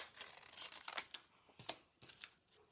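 Scissors snip through paper up close in a series of quiet, irregular cuts, with soft crinkling of the sheet between snips.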